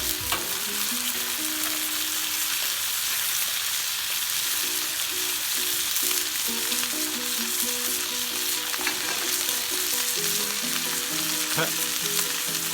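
Australian grade 4 Wagyu picanha steaks sizzle loudly and steadily in a hot pan, a dense continuous crackle with soft background music tones running beneath it and no talking.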